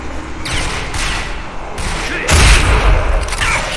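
Rapid bursts of video game gunfire from a newly switched weapon, loud and close, with a heavier volley in the middle and repeated shots throughout.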